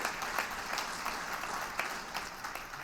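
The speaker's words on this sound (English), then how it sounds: "giving yourselves a round of applause" An audience at a business event gives a round of applause, a faint, steady patter of clapping with occasional louder claps, heard from a distance.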